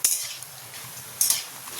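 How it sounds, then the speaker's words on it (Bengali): Papad frying in hot oil gives short sizzling bursts, the loudest at the start and again just past the midpoint, with quieter crackle and a light clink of a utensil between them. "তাই পাঁপড়টা আগে ভেজে নেব।"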